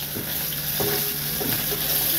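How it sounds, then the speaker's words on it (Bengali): Boal fish sizzles in hot oil in a pan, a steady close hiss with a few scraping stirs of a spatula. "তাহলে মাছটা আমার লাল করে ভাজা হয়ে গেছে।"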